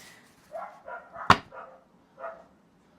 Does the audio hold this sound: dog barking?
yes